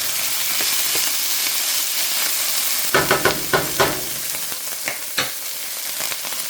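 Rotini pasta with Italian seasoning sizzles in a hot pan while being stirred, with a steady frying hiss broken midway by a run of sharp scraping strokes from the spoon.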